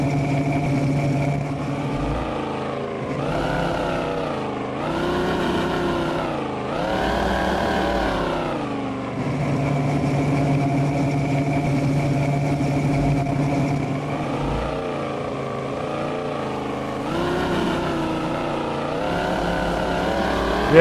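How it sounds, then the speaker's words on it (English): Truck engine in the SpinTires off-road game, a deep rumbling idle that swells and falls in repeated revving surges as it starts rolling, loud and steady with no talk. "So this thing sounds like a beast when it's idling, but as soon as you know start rolling with it, I don't know, it doesn't sound quite right."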